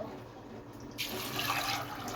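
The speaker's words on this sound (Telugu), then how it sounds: "కొంచెం నీళ్ళు వేసుకుందాం" Water is poured into a cooking pot for a chaat recipe, starting as a sudden steady splashing rush that continues to the end.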